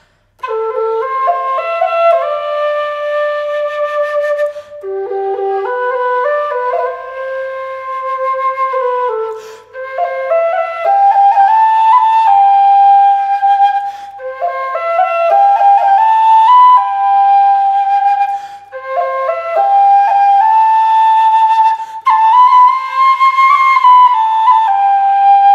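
A low G whistle plays a steady, flowing melody with sustained notes and a few brief pauses, clear and close throughout.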